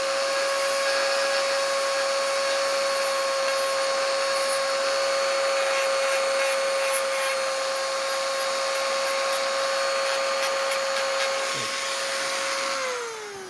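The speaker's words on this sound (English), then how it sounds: "take the Dremel" A Dremel rotary tool grinds a Glock 43 magazine in a steady high-pitched whine that holds for about twelve seconds, then winds down at the end, loud and close with no talk.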